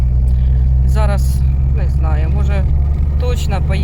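Car driving with a loud, steady low engine drone and road rumble from inside the cabin, while people talk over it.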